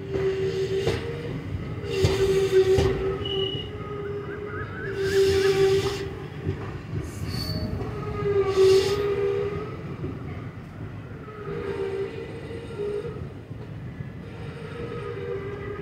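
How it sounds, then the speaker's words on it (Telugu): A train made up of mixed coaches rolls past on the track between Ramavarapadu and Vijayawada, giving a steady rumble with repeated squealing wheel screeches and rhythmic clatter, fairly close and loud throughout. "ఇదేమో అన్ని రకాల బోగీలతో కలిసి ఉంది మరి ఈ ట్రైన్."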